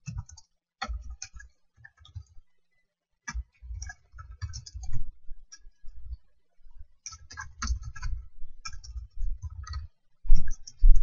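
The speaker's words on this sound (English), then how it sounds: "I know my typing sounds kind of like underwater" Irregular bursts of keyboard typing with short pauses between runs, close and clear, a slightly muffled clacking with no voices.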